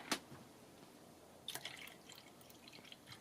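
Water is poured into ginger juice to dilute it aboard a narrowboat, with a sharp splash at the start, then soft trickles and drips that run on quietly and close by.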